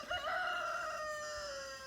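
A rooster crows once, a long drawn-out call, clear and fairly close, with nothing else behind it.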